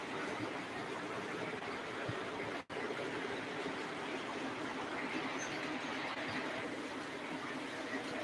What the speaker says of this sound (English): So the train will come all the way around here past the engine yard